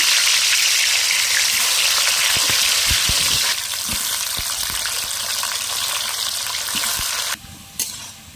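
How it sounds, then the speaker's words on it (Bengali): Potatoes frying in hot mustard oil in a kadai give a steady, loud sizzle with scattered stirring knocks, easing slightly midway and dropping near the end. "তেল গরম হয়ে গেছে। এবার আমি আলুগুলো ভেজে নেব।"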